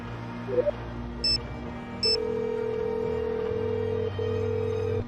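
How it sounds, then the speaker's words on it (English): A phone call in the Nancy Drew Sea of Darkness video game: a few quick dialing beeps, then two short electronic tones followed by long, steady ringback tones, clear and close with no speech. "Time to phone Alex again"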